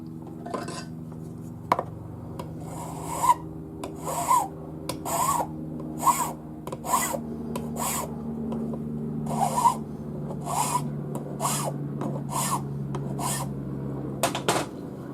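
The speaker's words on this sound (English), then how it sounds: "So file a little" Short rasping strokes of a hand file work a metal ring shank held in a ring clamp, coming in irregular bursts with pauses between, close and crisp, no talk.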